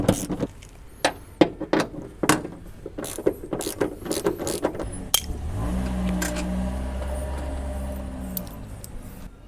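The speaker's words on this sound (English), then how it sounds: "All three bolts are out now." Bolts being backed out of a Nissan Frontier headlight assembly with a 10mm ratchet, a run of close, sharp clicking and metallic rattles followed by a steadier low mechanical rumble.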